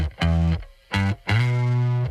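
Three distorted, fuzzy bass guitar notes, the last held and ringing out with a wet, washy stereo spring reverb tail.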